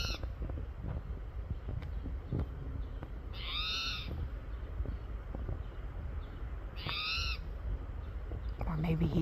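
A towhee in a suburban garden gives two loud, harsh calls a few seconds apart, standing out over a low, steady outdoor background.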